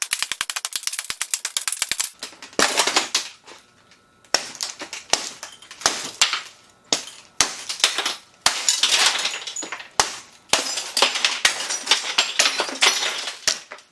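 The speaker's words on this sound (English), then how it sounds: "Oh, there's glass hitting me." Glass taped with hurricane tape cracks and shatters in repeated sharp bursts, with crunching fragments and ringing shards in quick clusters, loud and close and with no speech.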